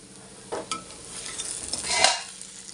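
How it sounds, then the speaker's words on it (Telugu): Bitter gourd and onion frying in a pan while being slowly turned: a soft continuous sizzle beneath a few scraping stirs of a spatula, close and moderately quiet, with no speech. "నిదానంగా ఇలా తిప్పుకుంటా ఉంటే పక్క వేయితే అన్నమాట మధ్య మధ్యలో మోత తీసుకుంటూ చక్కగా వేయించుకోవాలి"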